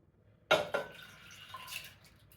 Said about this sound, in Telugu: ఈ పప్పు ఉడకడానికి సరిపడా వాటర్ పోసుకోండి